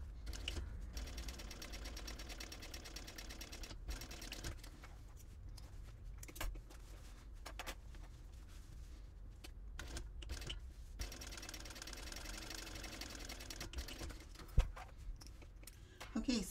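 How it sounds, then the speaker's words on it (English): A sewing machine top stitches the seam of a fabric packing cube, its needle chattering in a fast, even mechanical rhythm over several long runs broken by short pauses, close up and fairly quiet. "Now turn out that seam and top stitch."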